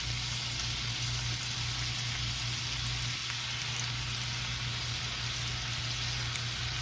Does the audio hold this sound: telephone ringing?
no